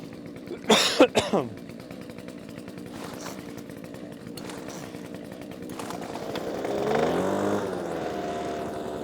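An old chainsaw with a replaced carburetor runs at a steady idle after a few sharp starting sputters, then revs up louder near the end.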